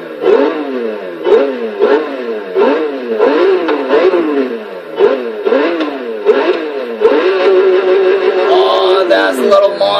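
A loud, synthetic-sounding V8 engine of a 2016 Lotus 3-Eleven in Forza Horizon 3 revs repeatedly, climbing in pitch and dropping sharply with each gear change, then holding a high, sustained whine.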